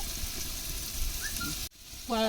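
Onions and tomatoes sautéing in a pan for dum biryani cooked on a traditional stove, a steady sizzle that cuts off briefly, then resumes alongside a faint whistling tone.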